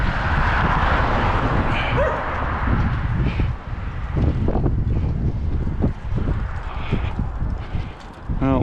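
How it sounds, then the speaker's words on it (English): A dog barks outdoors on a windy walk in Lewiston, Maine, several sharp yips and barks at mid distance over strong wind buffeting on the microphone. "Well, the dog's barking, but his tail's wagging."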